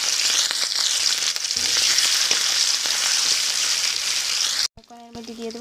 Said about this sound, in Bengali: এখন সবটা সবজি হালকা লাড়াচাড়া করব